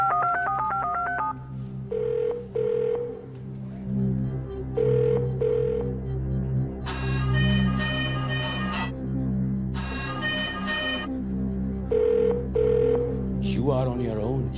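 A telephone rings in repeated short bursts with electronic tones during a phone-a-friend call on a TV quiz show, loud and clear over a sustained musical backing.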